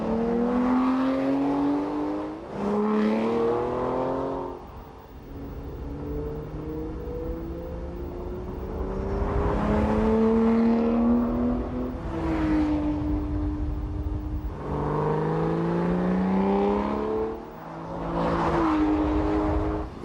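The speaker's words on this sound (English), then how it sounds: "the V12 engine fires with a delicious bark from the exhaust" An Aston Martin V12 revs in a string of rising and falling swells, each push of the throttle bringing a deep exhaust bark, loud and close with no talking.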